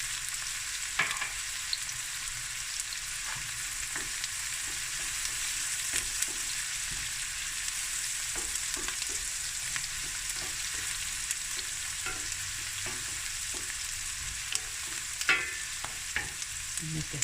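Onions, peppers and crushed chilies fry in a pan for a seafood rice dish, giving a steady close sizzle with scattered stirring clicks and scrapes throughout, no voices.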